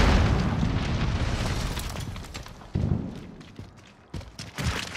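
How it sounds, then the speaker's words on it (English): Grenade blasts in Call of Duty: Modern Warfare, a heavy booming explosion rumbling and decaying, followed by several sharper bursts and thuds close by. "Grenade out!"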